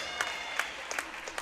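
Applause at a girls' high school basketball game as an injured player is helped up, a brief patter of scattered claps against a soft crowd murmur, somewhat distant and modest in volume.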